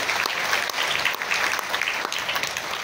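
Audience applause at a Marathi awards gathering in Vashi, Navi Mumbai, honouring women. The clapping is dense and steady from start to finish, a full crowd sound with no voice over it.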